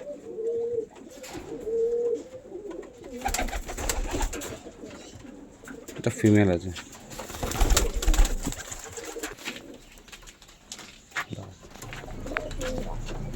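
Pigeons kept at home for sale, including a female, coo in soft repeated low throaty calls close by, with rustling and a voice speaking intermittently between them.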